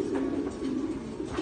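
A flock of racing pigeons coos steadily and continuously, close and fairly loud, while the birds are loaded for a race release.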